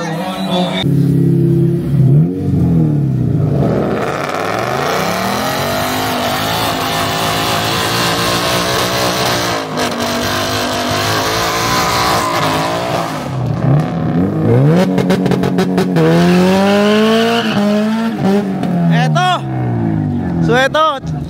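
Ford Mustang 5.0 and Honda Civic EG race cars compete in a championship race, their engines revving and rising in pitch as they accelerate past, loud and continuous, with an excited commentator talking over the roar throughout.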